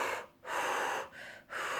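A forceful exhale to ease cramp pain, two long blowing breaths separated by short quick inhalations, close and loud with no speech.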